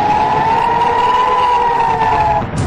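An air raid siren wails during a missile attack in the Israeli–Palestinian fighting, a single steady tone holding loud and level before cutting off near the end.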